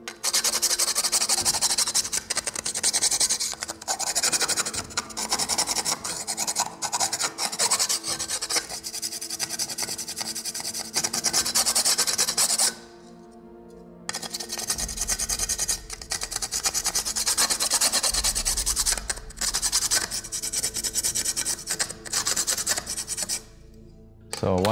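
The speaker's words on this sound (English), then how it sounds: "I'm gonna sand the edges of the chassis. So for that, I use a file." A hand file rasping along the sharp edges of a carbon fiber chassis plate for an XRAY X4 RC car: loud, close, continuous back-and-forth strokes with one brief pause midway.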